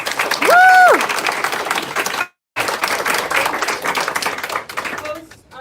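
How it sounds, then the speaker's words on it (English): Audience applause at a political rally for a congressional district campaign, a brief burst of crowd clapping that cuts out for a moment, resumes, then fades, with a voice speaking over the first part. "let's give these people a round of applause"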